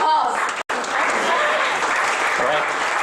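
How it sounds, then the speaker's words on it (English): Audience applause at a startup meetup event, steady dense clapping lasting a few seconds with a brief dropout near the start. "Please give applause."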